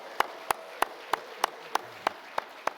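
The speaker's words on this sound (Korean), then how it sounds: "우리 크게 격려의 박수로 격려하도록 하겠습니다." Sparse, evenly spaced claps from a church congregation, about nine sharp hand claps at a steady rhythm in a quiet room.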